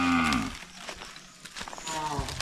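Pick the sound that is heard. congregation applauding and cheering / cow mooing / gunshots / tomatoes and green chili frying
cow mooing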